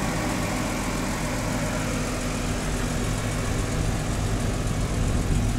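BMW M4 with an M Performance exhaust and Akrapovic downpipes idling, a steady deep rumble with a constant low drone that holds evenly throughout, close by and with no talk.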